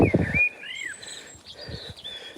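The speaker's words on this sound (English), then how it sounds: "Lovely bird song above my head." Bird song chirps and whistles overhead in short, rising and falling phrases, fairly faint, after a brief rustle at the start, heard on a morning dog walk.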